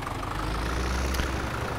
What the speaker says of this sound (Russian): Вот, кстати, вот этот третий трактор.